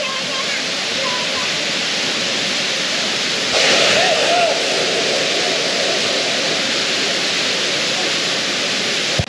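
A waterfall beside the Green Peak hotel in Bandarban roars as a loud, continuous broadband rush close by, swelling briefly partway through, with people talking under it.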